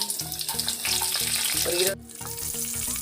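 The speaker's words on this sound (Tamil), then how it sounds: "கொஞ்சம் சோம்பு, கொஞ்சம் சீரகம் பொரிஞ்சிடுச்சுங்க. இப்போ பூண்டு" Fennel seeds, cumin and garlic frying in hot oil in a kadai make a continuous bright sizzle under background music, with a brief word spoken and an abrupt dip partway through.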